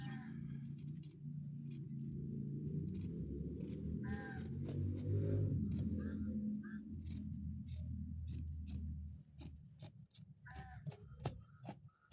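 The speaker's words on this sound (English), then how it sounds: "So let's just cut it out." Fabric being cut with scissors while making a senator garment, a run of sharp, repeated snips close by over a steady low background hum, without any talk.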